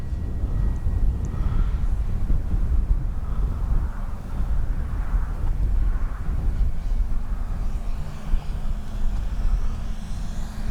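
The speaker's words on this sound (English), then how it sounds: "Phenomenal flying plane." An Avios Super Tucano RC model airplane flies past, its engine making a steady, loud drone blended with rushing wind noise that holds for the whole stretch.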